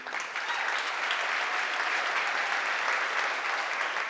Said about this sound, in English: you're welcome to applaud each of them as they're called